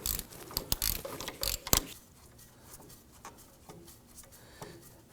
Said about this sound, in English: Now simply going to use our ratchet. And we want to go ahead and loosen and remove this bolt.